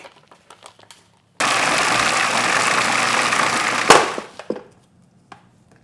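A food processor grinds chicken dumpling filling with potato starch in one loud, steady whirring burst of about two and a half seconds, then stops with a few clattering knocks.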